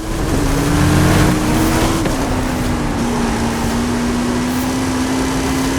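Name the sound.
car engine revving in Forza 5 video game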